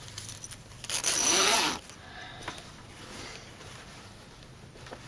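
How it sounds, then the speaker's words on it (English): A zipper being pulled open on a homemade quilted messenger bag, one steady rasping pull of about a second, close and fairly loud, then quiet handling noise. "let's open up our zipper"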